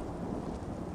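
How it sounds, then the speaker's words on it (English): Steady rain and a low rumble of thunder fill the outdoor soundscape of the video game Skyrim, a dense, even wash of rainfall with no voices over it. "And it's still fucking raining out here, dude."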